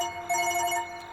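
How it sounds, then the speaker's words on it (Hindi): A mobile phone rings in a room of nervous young men in a Bollywood comedy, its bright electronic tone sounding in a short steady burst that swells after a brief lead-in and is heard alone. "फोन है।"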